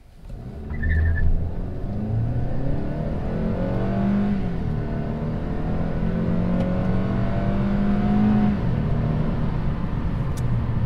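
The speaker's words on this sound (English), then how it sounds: "So now, for a quick acceleration." A 2014 Kia Optima LX accelerating hard, its engine drone climbing steadily in pitch through the gears, heard close and loud from inside the car with no talk.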